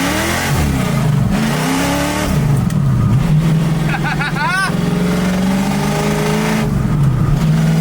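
A 1965 Ford Mustang with a 4-speed manual accelerates hard, its loud engine rising in pitch through repeated gear shifts, with someone talking over it and a brief squeal midway.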